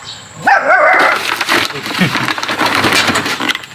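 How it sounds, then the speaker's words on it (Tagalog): A small dog gives a few high yips and barks close by, followed by a stretch of brighter rustling noise, with a voice faintly underneath. "Tumatahol ka na, adudoy?"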